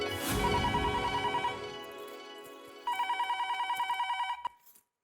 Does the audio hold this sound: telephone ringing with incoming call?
yes